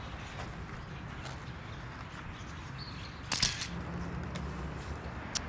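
A camera shutter clicks once, a short sharp snap standing out briefly against quiet outdoor background noise.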